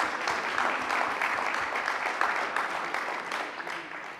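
Applause from the audience of a community council session, a continuous mid-level patter of many hands that gradually tapers toward the end.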